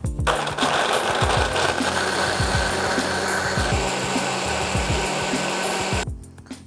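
A blender whirs loudly and steadily close up while grinding almonds with water for almond milk, the chopping thuds of the nuts pulsing underneath, then the motor cuts off near the end.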